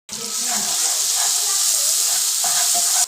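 Tomatoes and green chili paste fry in a pan with a steady, loud, close hiss of sizzling that holds for the whole stretch, with faint stirring movements underneath.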